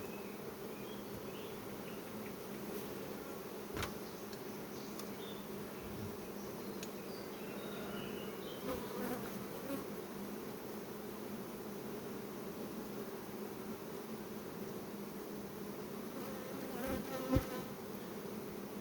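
Honeybees hum steadily around an open hive in a two-queen colony during an inspection, a dense continuous buzz that stays close and even with small bumps of handling and no talk.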